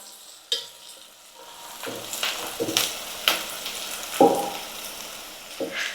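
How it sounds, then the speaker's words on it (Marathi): Onion frying on high heat in a pan for Kolhapuri chicken sukka, quiet sizzling under intermittent scrapes and clinks of a spoon stirring, with no voices. "गॅस फास्ट करून आपल्याला हा कांदा नरम आणि थोडासा लालसर करून घ्यायचा"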